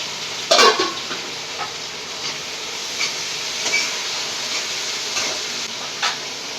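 Onions sizzle steadily in a hot pan, with a sharp clatter of stirring at the start and occasional soft scrapes.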